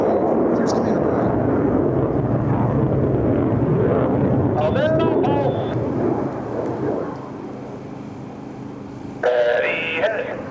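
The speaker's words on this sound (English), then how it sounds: "all pilots will simultaneously roll their aircraft 360 degrees as they perform the Diamond aileron" US Navy Blue Angels jets fly the Diamond aileron roll at the 2025 Wings Over South Texas Air Show. A heavy, distant jet roar and rumble fills the air, with a voice speaking over it and shifting engine tones toward the end.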